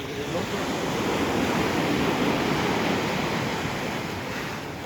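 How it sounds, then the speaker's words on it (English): Ocean surf rolls in a steady, loud wash along the Puerto Vallarta shore under a gray sky ahead of Hurricane Roslyn, with a broad hiss of breaking waves and some wind on the microphone and no speech. "occasionally the waves get a little bigger, crisper"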